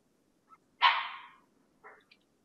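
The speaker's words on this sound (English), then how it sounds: "I may have to edit out this whole barking part" A dog gives one short yip, then a louder, drawn-out bark and a quick final yelp. The barks are clear and close, with no other sound in the background.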